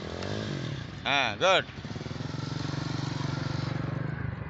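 During a riding lesson, a motorcycle engine hums steadily up close with a low, pulsing drone. An instructor speaks briefly over it in the middle.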